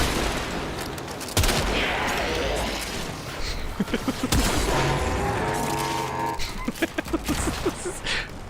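Gunfire from the player's weapon in a video game, rapid bursts of sharp shots and impacts in the second half over busy game noise, with someone talking.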